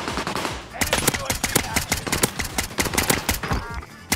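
Rapid automatic gunfire from the Warzone video game, loud and near, with dense bursts of shots cracking in quick succession throughout the clip.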